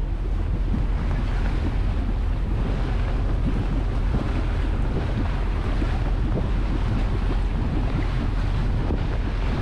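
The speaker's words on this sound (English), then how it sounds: "We've got like 40 knots of wind plus and gusting" Strong wind of about 40 knots, gusting, roars continuously at sea, buffeting the microphone with heavy rumble, while surf and water churn underneath throughout.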